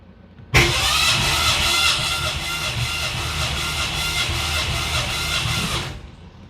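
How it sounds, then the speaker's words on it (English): A 1966 Ford Mustang engine cranks over continuously on the starter for about five seconds during a compression test, a close, steady churning drone that begins abruptly and stops cleanly. "I'm going to get in the car and crank the engine 5 or 6 times."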